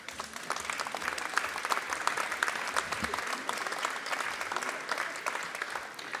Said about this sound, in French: nous pouvons leur adresser l'hommage unanime de la représentation nationale par nos applaudissements